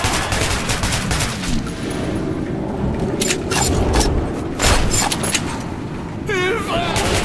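Gunfire in the first-person shooter Metro 2033 Redux: repeated loud shots and rattling bursts over a dense rumble, with an excited voice shouting over the combat.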